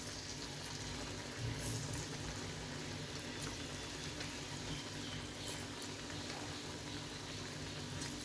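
Moong dal fritters frying in hot oil in a wok, giving a steady, soft bubbling sizzle that runs evenly throughout with no talking.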